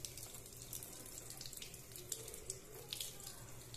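Bathroom tap running steadily into a sink while a child's toothbrush is wetted, a soft continuous splash with faint clinks near the end.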